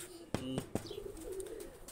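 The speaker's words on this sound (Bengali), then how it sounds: "দুইটা কবুতর দেখেন, খুবই সুন্দর কবুতর" A pair of Pakistani high flyer pigeons coo close by in a short, soft burst of low, throaty calls that stop and restart over about two seconds.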